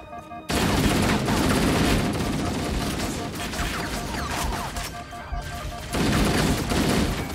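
Heavy crossfire in Halo: Combat Evolved co-op, a loud sustained fusillade of rapid gunshots and machine-gun bursts that barely lets up, with a short lull before the shooting surges again.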